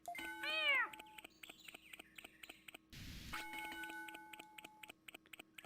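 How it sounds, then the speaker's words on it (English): A small creature in the Digimon World PlayStation game gives a short, high cat-like meow near the start, followed by quieter game tones and a brief burst of noise. "I want to know whose cat they got to voice this little creature."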